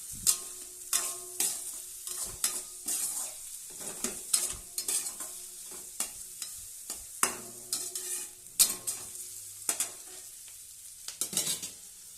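Ingredients for egg rice fried in a pan and stirred steadily, rhythmic spatula scrapes and taps over a soft sizzle, fairly quiet and close, no voices.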